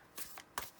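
Tarot and astro cards being shuffled, two short riffling bursts close by with a brief pause between them, quiet and with no one talking.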